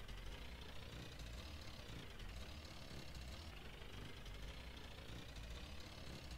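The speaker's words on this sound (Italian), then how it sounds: "Il suono dell'auto mi sembra lo stesso," A car engine running in the video game Jalopy, a steady low idle drone with a faint knocking texture, even and continuous with no talking.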